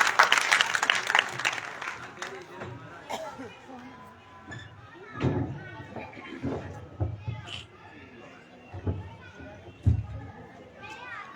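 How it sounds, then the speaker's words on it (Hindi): Applause from an audience at a kavi sammelan poetry gathering rises in a dense burst at the start, then fades into scattered claps and crowd chatter with voices talking. "एक बार जोरदार तालियों के बीच भाई रविंद्र रवि।"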